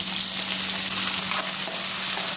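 Chopped onions sizzle and fry in a hot pan for rava upma, a loud, steady crackling hiss close to the microphone with no voices.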